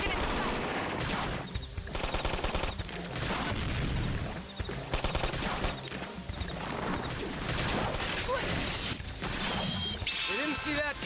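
Bursts of gunfire in a Xenoblade Chronicles X battle, dense and continuous under a busy mix of combat effects and game voices.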